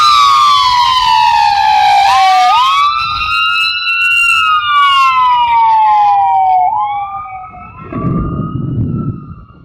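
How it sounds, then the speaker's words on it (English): A wailing emergency vehicle siren sweeps up and down loud and close for several cycles, then fades as it moves away, with a burst of rumbling noise near the end. "why would you possibly need sirens right there?"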